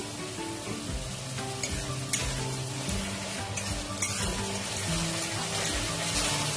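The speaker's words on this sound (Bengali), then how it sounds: "পেঁয়াজটা এরকম হালকা ফ্রাই হয়ে গেছে দেখো।" Onion paste and whole dried red chillies fry in a pan, a dense continuous sizzle close up with stirring scrapes and occasional utensil taps throughout.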